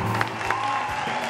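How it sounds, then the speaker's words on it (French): Short burst of studio applause on a live French-language radio call-in show, moderately loud over a steady musical hum, lasting only about a second. "On applaudit pour la ville de Boisquet, s'il vous plaît"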